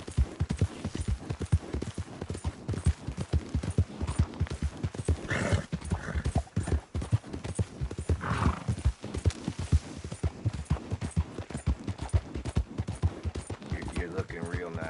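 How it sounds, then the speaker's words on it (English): Horse hooves clip-clop steadily through a Red Dead Redemption game scene, with a brief whinny partway through and people talking over the riding. "Have you ridden a horse before"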